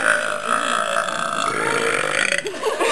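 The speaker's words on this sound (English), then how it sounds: "Burped on my glasses." Long loud burp at a talent show, a close, sustained guttural croak lasting a few seconds before breaking off.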